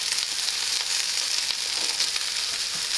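Lao fried rice (nam khao) crisps in a pan with a steady, bright sizzling hiss that stays even throughout, with no voices.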